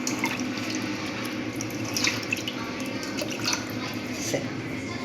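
Tap water runs steadily into a sink as vegetables are rinsed for Aviyal, a constant splashing hiss with occasional drips and clatters close by.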